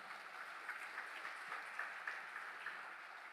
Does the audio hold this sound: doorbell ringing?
no